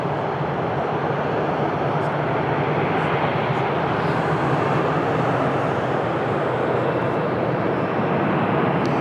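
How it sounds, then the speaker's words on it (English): An Aegean Airbus A320neo airliner at Lisbon Airport gives a loud, steady, broadband jet roar that holds evenly from start to finish. "On the way to Greece, Athens, our Aegean Airbus A320neo"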